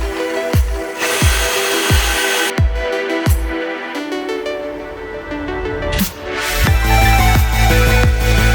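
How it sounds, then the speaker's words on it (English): A power drill boring several holes into the metal frame of a mini FJ40-style 4x4 go-kart build, with repeated sharp bursts and whirring runs, close and loud, no talking. "I'm going to drill several holes in between where the bearings will sit"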